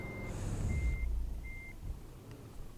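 An articulated truck reverses in Euro Truck Simulator 2 with three evenly spaced reversing beeps over a low rumbling engine, close and moderately loud.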